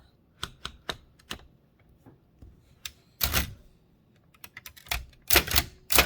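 Keys striking on a Hammond Multiplex typewriter: a close, irregular run of sharp mechanical clacks, with several single strokes followed by quicker bursts of keystrokes in a quiet room.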